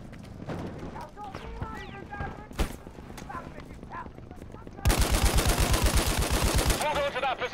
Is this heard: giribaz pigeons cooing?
no